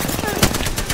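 Gunfire in Apex Legends, probably R99 fire: a quick burst of shots with one sharper crack near the middle, all packed into under a second over busy game sound.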